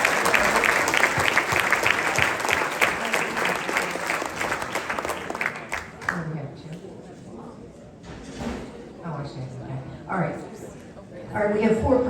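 An audience at a girls basketball club end-of-season banquet claps in loud, dense applause that fades after about six seconds, followed by a speaking voice and a brief return of clapping.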